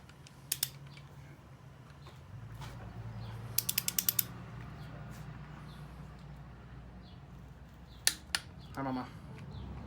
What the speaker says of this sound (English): These are going to be torqued down to 26 foot-pounds.